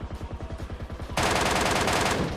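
MK rifle firing in a video game as rapid, rhythmic bursts of automatic shots, then a denser, louder stretch of continuous gunfire near the end, with no talking.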